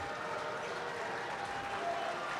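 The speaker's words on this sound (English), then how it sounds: "As we get claps for both teams" Dense, steady applause from a large crowd at a high school boys' basketball game, continuous and even, heard from a distance in a big gym.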